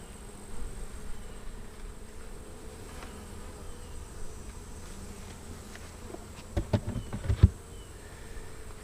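Honeybees from a weak, open hive give a low steady buzz close by, with a few sharp knocks and clatters near the end.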